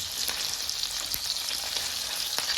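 Köfte meatballs pan-frying in a skillet at home, a dense, steady sizzle and crackle with occasional sharper pops, close and uninterrupted by speech.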